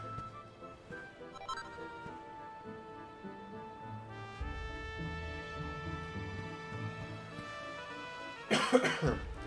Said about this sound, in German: ich habe immer noch Husten